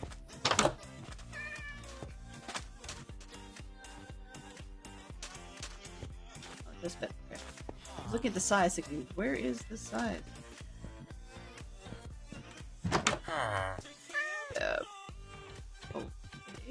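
Minecraft cat meowing in a few short calls amid game sounds, with someone talking over most of it.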